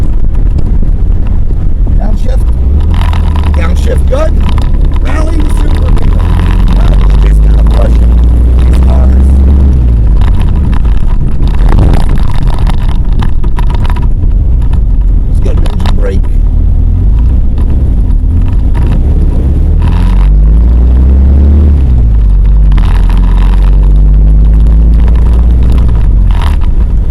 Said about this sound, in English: Downshift good. Rally the Super Beetle.